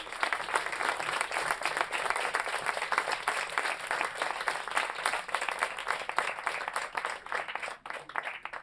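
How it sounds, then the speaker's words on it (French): A large audience gives sustained, enthusiastic applause at an election event, dense rapid clapping continuing steadily throughout at moderate loudness with no speech over it. "je voudrais qu'on leur fasse un très grand applaudissement."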